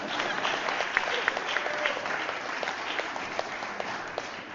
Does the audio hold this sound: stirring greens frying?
no